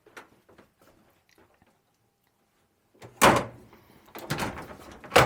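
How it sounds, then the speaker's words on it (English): Sliding wardrobe doors in a Country Coaches motorhome bump and thud as they are moved, with a few soft clicks first and then two louder knocks near the end. "how this wardrobe doors, they slide in to give you better space."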